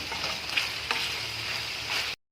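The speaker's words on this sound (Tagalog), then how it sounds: "hayaan natin siyang masute o magisa at lumabas yung kanyang mantika" Pork adobo sautéing in its own rendered fat, a dense, loud, continuous sizzle close up with a couple of brief scraping stirs, cutting off abruptly at the end, no talking.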